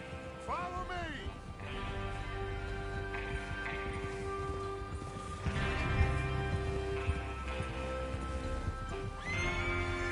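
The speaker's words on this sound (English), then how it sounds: "Get your horses ready." Horses in a Western open-world video game whinny and neigh loudly near the start, with hoofbeats clip-clopping and galloping throughout over a steady game soundtrack and ambience, with voices briefly in the mix.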